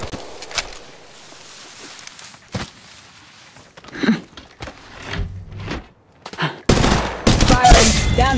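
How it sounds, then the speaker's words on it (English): Gunfire in the battle royale game Apex Legends Mobile crackles in scattered single shots and short bursts. It builds into a loud, dense volley near the end, with footsteps and other game effects between the shots. "Firing."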